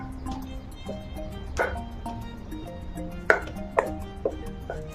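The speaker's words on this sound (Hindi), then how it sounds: "सब छतु को एम काटि देबे" A knife chops chhatu mushrooms into pieces on a board for a spicy chhatu curry, giving a handful of sharp, near cuts with a few louder knocks over a low background hum.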